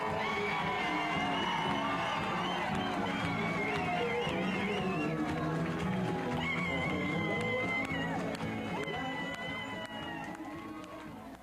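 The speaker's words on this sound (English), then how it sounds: "Edwards received an enthusiastic round of applause and cheers upon entering the room where his supporters had" Supporters gathered in a room cheer, whoop and applaud as gubernatorial candidate Edwards enters, a loud, continuous crowd roar with shouts rising over it, tapering off near the end.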